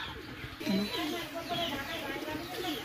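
Pakistani highfly pigeons coo softly in a short burst of low, throaty calls, with background voices and ambient noise around them.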